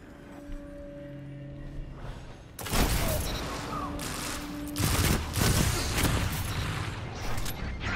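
Sniper rifle fire in the online shooter Destiny 2 gives two sharp, loud shots a couple of seconds apart, each followed by a burst of game noise.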